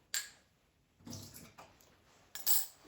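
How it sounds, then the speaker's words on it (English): Water is poured out from a Breville Barista Express BES870 espresso machine in short bursts of splashing and clinking against a basin, close and intermittent, separated by brief quiet gaps. "Next, I will discard this water."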